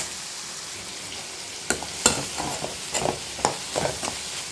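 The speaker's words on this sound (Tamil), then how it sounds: "மல்லித்தலை ஒரு பிடி சேர்த்துக்கலாம் நெய் சேர்த்து நல்லா வதக்கிக்கிடுவோம்" Coriander leaves are sautéed in ghee for fish biryani, with a soft background sizzle and a series of distinct scraping and clinking stirs of a spoon in the pan.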